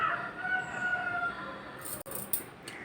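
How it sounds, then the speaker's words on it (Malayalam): A rooster crows once at a distance, a drawn-out call over quiet background, followed by a few faint knocks. "പൂവൻകോഴി രാവിലെ കൂന്ന കേട്ടോ."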